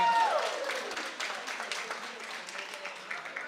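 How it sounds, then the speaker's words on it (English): A crowd applauding steadily, dense scattered clapping that holds for a few seconds, beginning with a brief tone and tapering slightly. "let's get a round of applause"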